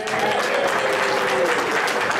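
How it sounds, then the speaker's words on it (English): Diners at a BWAA awards dinner break into a brief but full round of applause, dense and steady throughout with a faint voice or whistle running through the clapping. "I expect to hear a very loud round of applause"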